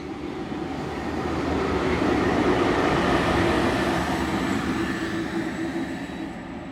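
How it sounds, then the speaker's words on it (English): Diesel locomotive DFB 7307 hauling a test train roars past at speed, a steady loud rumble with wheel and rail noise swelling near the middle and easing slightly toward the end, no voices. "Not long after, DFB 7307 came speeding by with test train B69."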